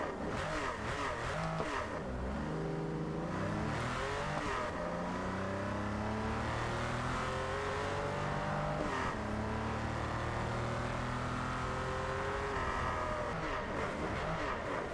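Car engine in the racing game Test Drive Solar Crown, revving and accelerating through repeated gear changes, loud and continuous with rising and falling pitch sweeps and no talk.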